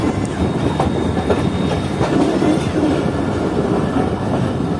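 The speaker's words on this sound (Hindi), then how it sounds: "और ये कराची साइड का HMU30 ट्रेन की बैक साइड पर लगने के लिए आ चुका है यहाँ पर।" An HMU30 locomotive at a station moves up to couple onto the back of the Sukkur Express as a banker, its loud continuous rumble joined by clattering wheels close by.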